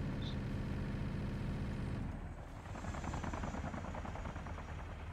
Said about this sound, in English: It's a Russian attack chopper.